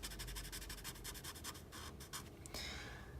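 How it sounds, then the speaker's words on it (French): A graphite colour pencil colours on paper in quick, rhythmic scratchy strokes, close and soft, speeding up and then ending in a longer smooth stroke. "j'utilise la couleur 4155 des graphites pour colorier le visage"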